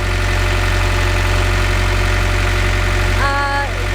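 A sailboat's inboard engine idles steadily during final tests after a new sea strainer is fitted, a smooth continuous low drone with a brief rising tonal whine near the end.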